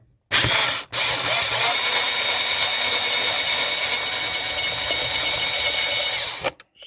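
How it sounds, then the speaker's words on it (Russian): A cordless battery screwdriver runs steadily, unscrewing bolts during work on a Lada Kalina with a Bosch 7.9.7+ engine control unit; one loud continuous whir with a brief dip near the start, close by and alone. "Ну, соответственно, отверточка моя аккумуляторная."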